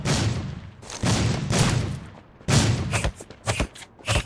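Gunfire in the Rules of Survival battle royale game, a series of loud, close bursts and cracks in uneven clusters, ending in a few sharp separate shots.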